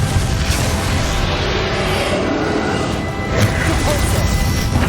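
The Confringo explosive spell from Hogwarts Legacy bursts in a loud, dense crash of blasts and impacts during a final battle, continuous and heavy throughout with layered smashing noise.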